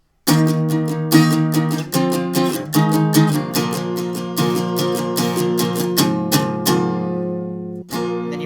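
An acoustic guitar plays a song, with firm repeated downstrums of full chords in a steady rhythm, close and clear, ending on three strums that ring out before a final stroke.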